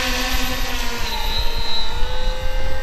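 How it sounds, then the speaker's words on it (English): A radio-controlled model Twin Otter plane taxis on the ground with a loud, close, steady motor and propeller whine, its pitch shifting slightly as it rolls, with no talking. "I'm going to taxi out."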